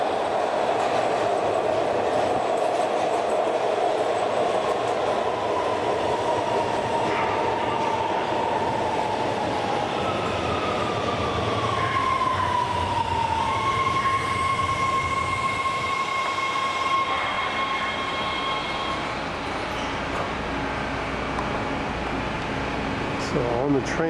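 A Washington, DC Metro subway train rumbling along the track, steady rolling noise with clicking wheels and rising and falling electric motor whine, heard from inside the car with continuous background hum.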